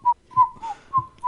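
Whistled notes from people on a comedy podcast, four short bright tones in a loose sequence, close and clear with soft breathy onsets between them and no talk.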